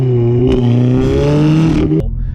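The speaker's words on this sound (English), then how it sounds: "I literally love my Audi S3 to bits. The way it sounds, it's so unique." A loud Audi S3 engine and exhaust roars up close in a steady rising rev, droning strongly before cutting off abruptly near the end.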